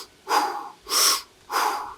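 Continuous circular mouth breathing, three close, airy breaths in quick succession, inhales and exhales flowing into one another with almost no pause between them.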